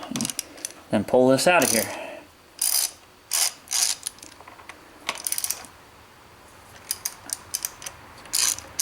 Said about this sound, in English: They're pinch bolts. So we're just gonna loosen them up